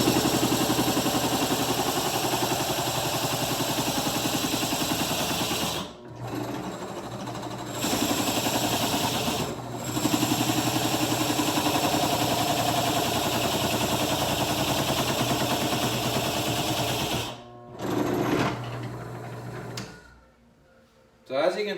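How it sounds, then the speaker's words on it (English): A power drill bores into a block of wood to make a pleco breeding cave, whirring loud and steady for long stretches, broken by brief stops where the drill stalls or pauses. "I can stall the drill out if I go too fast."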